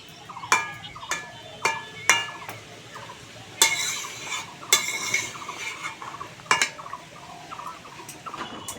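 A spoon scrapes and clinks against a pot while sugar is stirred into a fish curry with taro, giving a string of sharp metallic knocks and scrapes, some clustered, some spaced apart, with no talk.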